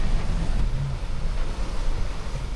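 Ocean waves rush and slap against a Nautitech 40 catamaran under way at sea, giving a loud, rumbling wash mixed with buffeting wind noise and no voices.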